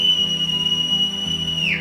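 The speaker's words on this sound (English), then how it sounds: "There's the whistling." A sustained, steady whistled tone in a Final Fantasy Mobius cutscene holds for almost two seconds, then bends and fades at the end over a low background drone.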